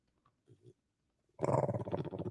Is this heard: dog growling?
yes